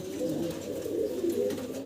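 Pair of Moon Potter pigeons in a cage, giving close, loud, repeated throaty cooing in a continuous rolling phrase.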